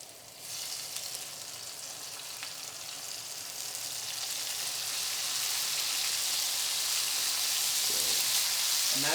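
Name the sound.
vegetables sizzling in hot oil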